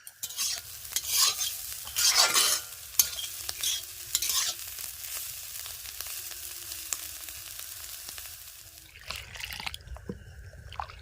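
Potato, carrot and bean pieces stir-frying in a pan, with a close sizzle, bursts of spatula scraping and stirring early on, then a quieter steady frying hiss with occasional clinks.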